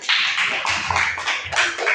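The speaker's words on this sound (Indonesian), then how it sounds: "Tepuk tangan sekali lagi" Children in a classroom clap together once more as a group, a dense, steady patter of many small hands that lasts about two seconds, close and fairly loud, with no talking over it.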